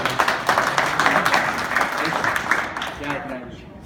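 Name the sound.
audience applause for speaker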